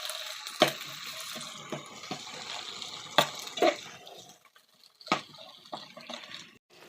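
Squid balls sautéing in a pan with garlic and onion, a steady wet sizzle broken by a few sharp clinks of a utensil against the pan, close and moderately loud with no talking.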